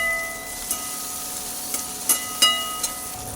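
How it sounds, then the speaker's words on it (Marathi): Cluster beans (guar) with turmeric roasting in a pan, a steady soft frying hiss throughout with a few brief spatula scrapes and clicks standing out, close and moderately quiet. "गवारी चांगली भाजून घेऊया"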